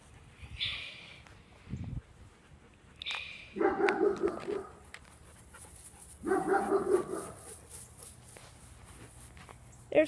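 Dogs bark and yip in short bursts with pauses between, some whimpering and panting in between, moderately close.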